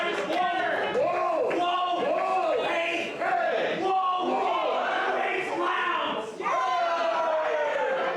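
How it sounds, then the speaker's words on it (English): A wrestling crowd at a live pro wrestling show in Saskatoon, voices chanting and cheering in rhythmic rising swells, with loud sustained crowd noise and brief dips between chants. "getting the cheering going, getting the clapping going"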